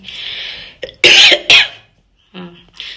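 A sick person with abdominal pain coughs in two harsh, forceful bursts close to the microphone, with raspy breathing and throat noise around them.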